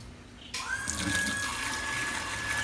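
After a tap is opened, water rushes through a household water pump turned automatic, starting abruptly as a steady close hiss and flow with a faint whine above it.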